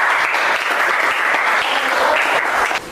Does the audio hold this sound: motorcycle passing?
no